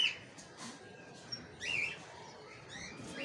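Birds near an outdoor cage give faint, scattered chirps and short tweets, with a soft coo-like note, over a low steady background.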